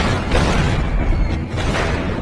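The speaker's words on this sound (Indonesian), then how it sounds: "kedua bocil nakal mulai beraksi dengan sengaja meledakkan petasan untuk mengecoh Charlie dan Toby" A loud, dense burst of noise fills the whole clip, like firecrackers exploding nearby in a continuous crackling roar.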